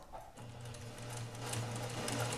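A sewing machine chain-sews fabric, its needle motor running in a fast, steady mechanical whir for a couple of seconds, close and alone.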